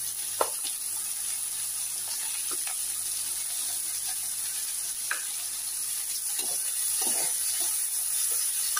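Lentil fritters (bora) fry in a pan with green chili, onion and garlic, a steady close sizzle and hiss with occasional brief crackles and stirring clinks, no talking.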